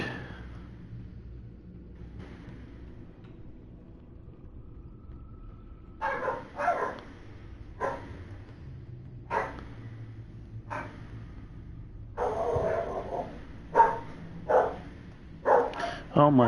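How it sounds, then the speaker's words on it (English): Pet dogs bark indoors in a series of sharp, separate barks, starting after a quiet stretch and repeating at uneven intervals, fairly close, over a low background hum. "My dogs are being really loud."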